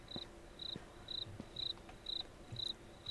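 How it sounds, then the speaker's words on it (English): Cricket in the video game Radiolight chirping in short regular bursts, about two per second, fairly close and steady against a quiet background. "That's a loud cricket."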